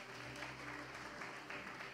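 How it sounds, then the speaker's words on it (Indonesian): A Bengkulu church congregation claps for Jesus during an Indonesian Sunday worship service, a short, faint wash of steady applause heard from a distance over a low background hum. "Tepuk tangan buat Tuhan Yesus saudara."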